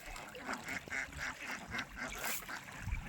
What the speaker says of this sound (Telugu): మస్తు బాతులు